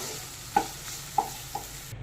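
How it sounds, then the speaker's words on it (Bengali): Fried chicken is stirred into white sauce in a pan for pasta: a low sizzle under two sharp spoon clinks against the pan and a softer third knock, close by, with no talking. "এবার এগুলোকে ওই হোয়াইট সসের মধ্যে মিশিয়ে দেব।"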